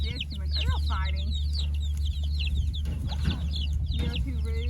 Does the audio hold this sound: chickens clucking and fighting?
yes